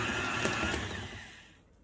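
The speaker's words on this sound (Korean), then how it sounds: "고속인 7단으로 돌려서 반죽을 쳐볼게요" Stand mixer running at high speed while kneading bread dough for breadsticks, a steady motor whir with a couple of rhythmic thumps as the dough slaps the bowl, then winding down and fading out.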